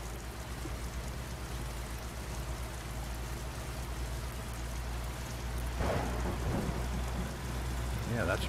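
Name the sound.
thunder and rain in American Truck Simulator video game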